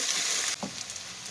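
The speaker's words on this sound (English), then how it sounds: "I'm going to let these potatoes brown up and get a little bit of color on them." Potatoes frying in a very hot pan, a loud steady sizzle that drops off sharply halfway through, followed by a soft stir or scrape and a quieter ongoing crackle.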